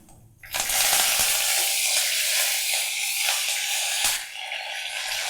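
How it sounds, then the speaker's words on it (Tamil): Fenugreek seeds drop into hot oil for a Tamil fish kulambu with mustard seeds, bursting into a loud, close, continuous sizzle that holds steady with faint stirring clatter. "கொஞ்சோண்டு வெந்தயம் போடுறோம்."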